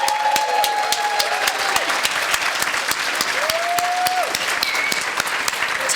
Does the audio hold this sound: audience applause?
yes